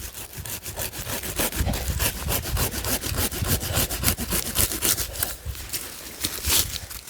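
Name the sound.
cutting off bonsai tree branches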